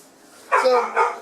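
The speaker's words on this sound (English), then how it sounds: "sorry about the dogs barking in the background there." Dogs bark in the background, two short barks about half a second apart, at moderate loudness after a quiet start.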